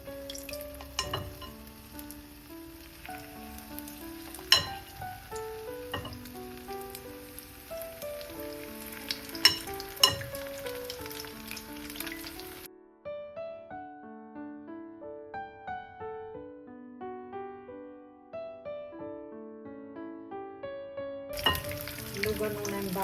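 Spoonfuls of savory donut batter fry in oil heated to medium temperature, crackling and sizzling softly under melodic background music, which later plays on alone.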